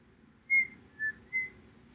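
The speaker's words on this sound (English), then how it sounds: "it's called a whistle tone." Three faint, very high, pure whistling tones, each brief, with short gaps, over a quiet background hiss.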